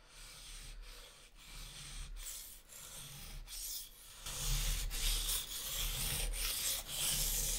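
A Japanese Miyabi knife is sharpened on a 400-grit whetstone, giving repeated close rasping strokes in a steady back-and-forth rhythm that grow a little louder partway through, with no speech.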